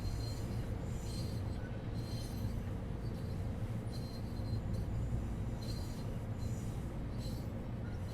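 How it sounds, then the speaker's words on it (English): Passing train in the LIRR Commuter railway simulation game, a steady, loud rumble of wheels on rails with faint high squeal, continuous throughout with no talk. "there is indeed a train right there"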